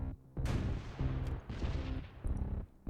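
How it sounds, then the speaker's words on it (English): Long-range artillery in a wargame strategy roguelike: a rapid run of heavy booming shots, about five or six blasts at uneven intervals, each loud and close with a short decaying tail. "Alright, long-range artillery."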